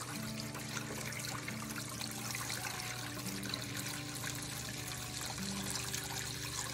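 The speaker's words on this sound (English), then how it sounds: "now we're going to put our curds in our cheesecloth and let them drain for 5 minutes" Fresh cottage cheese curds from raw milk sit in cheesecloth while whey drains out in a steady, soft trickle that continues evenly throughout.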